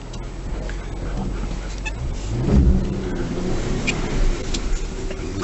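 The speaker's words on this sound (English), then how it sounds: "Get some wheel spin going." A 2017 Jeep Cherokee Trailhawk on Nokian Hakkapeliitta winter tires spins on snow, a continuous engine drone that swells into a louder rev midway, with muffled rumbling underneath.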